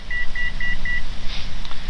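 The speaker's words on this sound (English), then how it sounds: "That was beeping to let me know I left my altitude." An aircraft altitude alerter in the cockpit sounds four quick, evenly spaced high-pitched beeps after the plane departs its assigned altitude, clear above a low engine drone, then stops.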